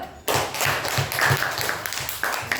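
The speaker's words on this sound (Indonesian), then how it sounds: "Tepuk tangan dulu." Children clapping hands in a classroom coding lesson, a short burst of several quick, uneven claps starting abruptly and continuing at close range.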